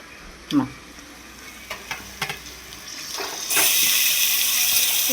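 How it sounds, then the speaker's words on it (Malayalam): Large beef pieces dropped into a hot pan for beef pulao, a few soft thuds and scrapes giving way to a loud, steady sizzle that swells and holds, close up. "ഇനി അടുത്ത് നമ്മൾ ബീഫ് ഇതിലോട്ട് ഇട്ട് കൊടുക്കാൻ പോവുകയാണ്"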